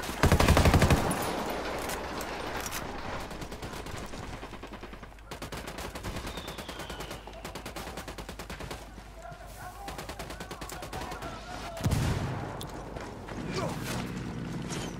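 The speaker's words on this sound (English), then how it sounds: "Those mortars, those miniguns, all of them are annoying me." Mortar and minigun fire in the video game Ghost Recon Wildlands: rapid, continuous automatic gunfire runs throughout, with heavier booms at the start and again near the end.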